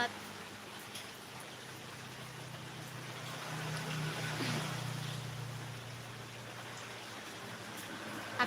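Steady rain falls in a continuous even hiss, with a low hum running beneath it and no voices.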